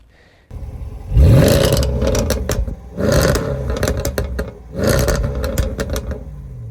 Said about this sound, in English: This is the sound that these quad exhausts produce.